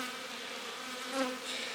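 Honeybees buzz inside a strong winter hive, a steady close drone with a brief louder swell near the middle.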